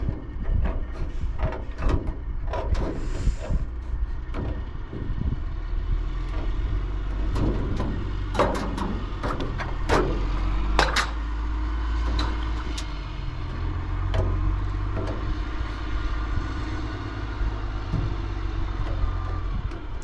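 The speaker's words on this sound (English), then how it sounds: "Got a dump truck pulling in." A dump truck pulls in at a residential roofing job, its low engine rumble and idle running steadily under scattered clanks and knocks, moderately quiet and at some distance.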